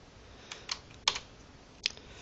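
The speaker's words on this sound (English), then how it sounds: "So you can fully edit this with the keyboard. I'm changing lines with the arrow keys" Light keystrokes on a computer keyboard, arrow keys being tapped to move between lines of an on-board BASIC editor for a small robot; a handful of soft, irregular clicks, close and quiet with no talk.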